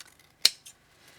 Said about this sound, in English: we're going to use our scissors just to trim around the card base itself